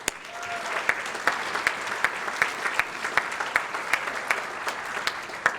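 Applause from diners at a chamber of commerce annual dinner, a crowd clapping steadily with some sharp individual claps standing out near the microphone, moderately loud throughout.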